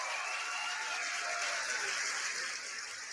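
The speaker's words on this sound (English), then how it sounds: "Let's clap one more time for Notre Dame" Applause for the Notre Dame football team after its first college football playoff win, a steady wash of clapping from a sizable crowd that holds at an even level for the whole stretch, with no voices over it.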